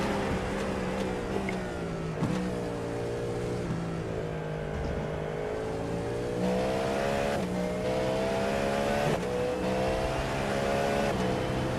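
Race car engine in a sim racing game at Circuit de la Sarthe during an endurance event, droning steadily with harmonic pitch sweeps as the throttle shifts from half to full, continuous and loud throughout.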